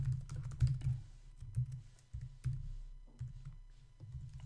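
SQL code is typed on a computer keyboard, producing quick, irregular key clicks and taps in short runs, close and quiet, alone with no voices.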